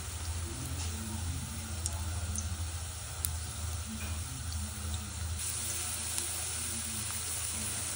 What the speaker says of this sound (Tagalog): Inisa na natin yung garlic.